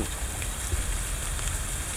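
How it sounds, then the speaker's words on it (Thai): Rain falling outdoors at a fishing spot, a steady dense hiss of drops with low rumble, constant and fairly loud with no talk. "แต่ฝนมันตก"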